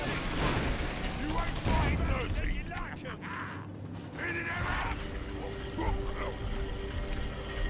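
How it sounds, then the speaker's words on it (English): Dense battle noise from Warhammer 40,000: Dawn of War III, with grenade blasts and rattling gunfire layered continuously over mechanical game effects, loud and busy throughout. "Use some of the shoot boys' grenades to make this fight even less even."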